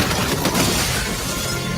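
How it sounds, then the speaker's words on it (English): Glass shattering in a Wheel of Time series trailer, a loud broad crashing burst with scattered fragments, dense and noisy throughout the short span with no voices. "I'm going to put up this bit from the trailer and see if you agree with me about the glass breaking."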